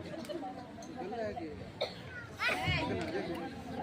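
An actor coughs on stage during an outdoor Ramleela play, a couple of short harsh coughs and throat-clearing bursts breaking through ongoing chatter and voices.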